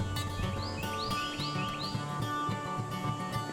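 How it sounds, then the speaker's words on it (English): Several short, rising bird chirps repeat in a quick series over a steady outdoor background hum, fairly faint and a little distant, in a garden among pines with wind. "hearing the wind and the pines and the birds"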